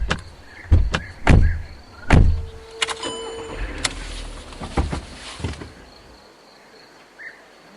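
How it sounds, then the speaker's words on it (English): Car doors thump shut several times in quick succession, followed by the engine starting and the car pulling away, fading to a quiet outdoor background with faint insects. "he and the professor get into the professor's car and drive off"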